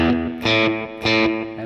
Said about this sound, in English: This is a clean top boost sound with a little slapback.